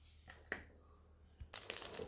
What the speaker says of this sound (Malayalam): എണ്ണ ചൂടായിട്ടുണ്ട്. കടുക് ഇടുവാണ്.